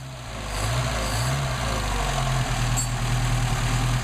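A cold Mercedes 190SL engine fitted with Solex carburetors fires up and settles into a steady, close idle with a low, even rumble and no talking.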